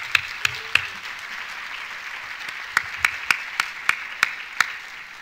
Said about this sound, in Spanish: pido un fuerte aplauso nuevamente